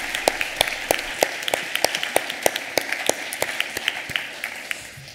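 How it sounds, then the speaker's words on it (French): A small audience claps at a book festival awards ceremony, with sparse, distinct individual hand claps in a loose, uneven rhythm that gradually thins out and grows fainter. "je pense qu'on peut vous applaudir pour ça et toute l'énergie donnée aujourd'hui"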